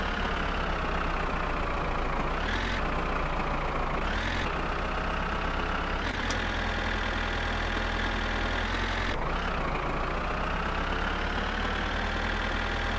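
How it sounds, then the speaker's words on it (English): A tractor engine in the My Summer Car video game labours continuously up a steep hill, a close, loud, knocking drone that shifts pitch a few times as the load changes, with no talking. "It's a bit of a steep hill for the tractor."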